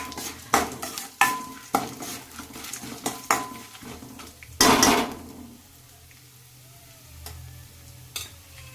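Urad dal and chana dal fry in a pan with sharp, rhythmic spoon scrapes and clinks against metal over a low sizzle, one louder scraping burst midway, then quieter crackle toward the end; no speech.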